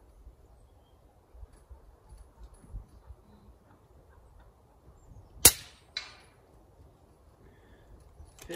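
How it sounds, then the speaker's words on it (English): An FX Wildcat MK3 air rifle fires a .25 pellet through a chronograph: one sharp, loud crack breaks an otherwise quiet scene, followed moments later by a fainter second snap. "let's get started with a couple chronograph shots and see how consistent it is and what speed we're at"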